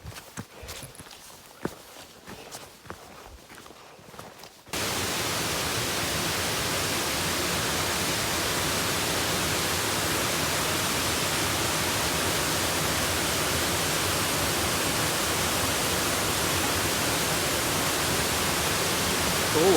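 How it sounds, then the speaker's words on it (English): Steady, dense rushing water from a nearby waterfall on the Appalachian Trail roars continuously and loudly after a few seconds of quieter rustling and footsteps. "Cool waterfall"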